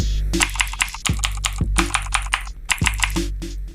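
Computer keyboard typing with a custom key sound, close and crisp: rapid bursts of clicky keystrokes in uneven clusters with brief pauses between, heard alone without talk.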